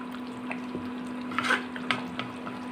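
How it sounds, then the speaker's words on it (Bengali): Beef curry cooking in a pot, a low simmering bubble with a steady hum and a few faint stirring scrapes and clinks. "কিছুক্ষণ পরপর নাড়াচাড়া দিয়ে দিতে হবে"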